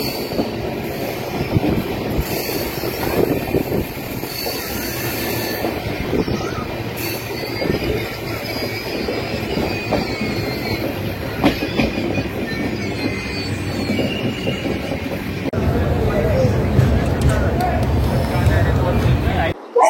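Padatik Express (12377) running from Sealdah toward New Jalpaiguri, heard from inside a crowded general coach: continuous loud rumble and rattling of the carriage with wheel noise and squeals, building louder near the end, with passenger chatter in the background.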